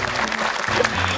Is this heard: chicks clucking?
no